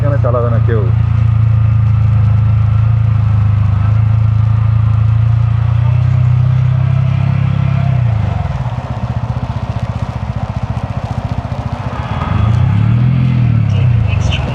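An off-road vehicle engine drones loudly and close on a steep monsoon hairpin road between Rishop and Delo, Kalimpong, its pitch sinking and rising as it engine-brakes downhill, while people talk over it.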